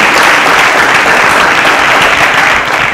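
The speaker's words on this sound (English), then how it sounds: "round of applause for Emmanuel." A studio audience at a quiz competition breaks into loud, dense, continuous applause that holds steady throughout and eases slightly at the very end.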